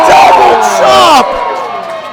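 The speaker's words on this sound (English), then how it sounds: "The crowd calling for Terry Hopper to chop Cecil Cerveza." A wrestling crowd at an EPW Rise show shouts and cheers loudly in unison, urging a chop. The massed voices swell for about a second, then drop to a quieter murmur.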